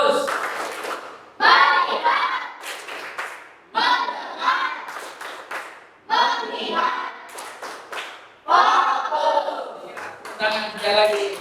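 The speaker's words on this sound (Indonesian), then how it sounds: "Tepuk fokus." A classroom group of students performs a rhythmic clapping routine, repeating patterned bursts of hand claps several times with brief pauses between them, mixed with chanting voices close by.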